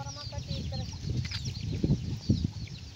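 Chickens clucking near a village house among goats and cattle, a few close, short clucks and calls rising over a busy low background.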